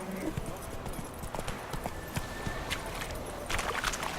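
A horse named Roach walks with steady, fairly close hoof clip-clops over a constant outdoor background, and a faint voice may come through in places.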